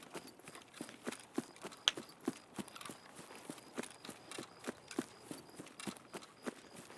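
A horse in a video game walking at a steady pace, even clip-clop hoofbeats repeating about three per second, close but fairly soft, with no talk.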